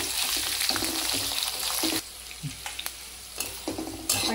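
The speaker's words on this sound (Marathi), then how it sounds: "आपण थोडा कांदा परतून घेतलाय" Onion with a handful of garlic cloves sautés in a pan for a Mumbai street-style jini dosa filling, crackling and sizzling up close while a spatula scrapes and stirs. The frying softens partway through, with no one speaking.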